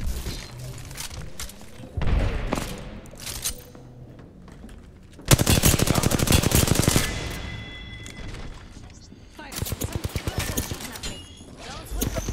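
Rapid automatic gunfire from Apex Legends in long rattling bursts, loud and close, with a frantic voice talking over the shooting between volleys.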